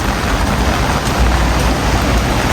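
Heavy typhoon rain from Typhoon Shanshan pours down in a loud, dense, unbroken roar, drumming hard on nearby surfaces with no pauses.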